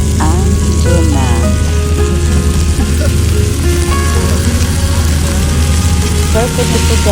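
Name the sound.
tuna added to frying tomato and garlic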